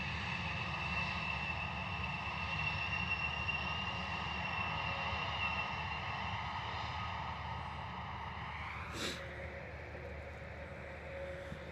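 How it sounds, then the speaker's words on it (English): A Wizz Air Airbus A321neo arriving on approach at foggy London Luton Airport, its steady engine roar and whine holding broad and continuous throughout, with a brief sharp rise near the end, no voices present. "nice, easy going arrival there from our A321 Neo. Wizz Air coming in from Rome"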